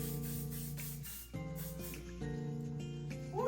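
Hair spray is misted onto a wig in short hissing bursts, with a steady tonal hum running underneath and brief gaps between sprays.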